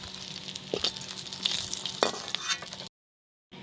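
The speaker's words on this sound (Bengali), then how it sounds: "আমি লাল লাল করে মাছ ভাজে নিয়েছি।" Fish frying in oil in a wok, with a steady hiss and occasional louder spits and scrapes, then abruptly cutting to silence before a faint return.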